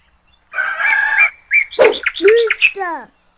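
A rooster crows once in a farm-animal sound sequence, a loud, close cock-a-doodle-doo standing alone with no talk over it.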